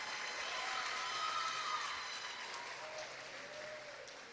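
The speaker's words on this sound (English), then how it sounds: "You can clap for them." Graduation audience at Riverside Academy West applauding, a sustained even wash of many hands clapping in a large hall, moderately distant and gradually easing off.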